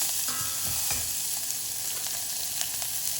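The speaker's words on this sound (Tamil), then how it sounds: "இது சின்ன வெங்காயம் தான் போடணும், அதுதான் நல்லாயிருக்கும். இதையும் ஃப்ரை பண்ணிக்கலாம்." Small shallots sizzle steadily in hot oil while being stirred for a Salem-style tomato sambar, a close, continuous frying hiss with occasional scraping taps and no voices.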